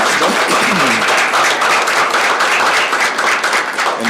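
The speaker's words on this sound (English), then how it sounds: "If we could all give them a round of applause for helping to make this event possible." An audience gives a round of applause at a legislative crackerbarrel event, a dense, steady wash of many hands clapping at close range that holds at an even loudness throughout, with no voices over it.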